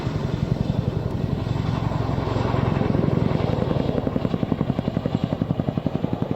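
A twin-engine Boeing-rebuilt HC-2 helicopter manoeuvres in flight, its rotor thudding in a loud, rapid, steady beat that builds and sharpens toward the end, with no voices.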